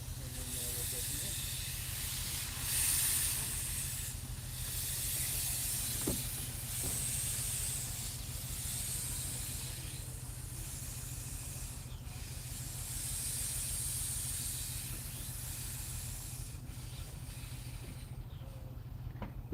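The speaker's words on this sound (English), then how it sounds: "he's gonna put the coals to her and show you this Plymouth working hard. I mean, this Porter, the little Porter locomotive." An 1889 Porter steam locomotive works hard up a grade, giving off a loud, continuous steam hiss with a low rumbling undertone and periodic surges, close by and steady throughout.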